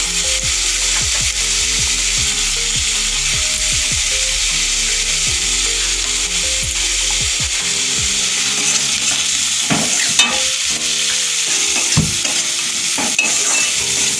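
Tomato lightly fried and stirred in a pan, a steady close sizzle with rapid scraping strokes early on that slow to scattered knocks and stirs later.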